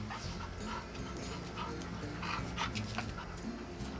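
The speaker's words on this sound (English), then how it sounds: "Not the stick, the dog, Patches." A dog pants steadily and heavily after playing with a stick outdoors, close by, with a faint whimper and a murmur of voices in the background.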